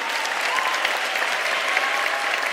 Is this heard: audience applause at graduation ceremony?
yes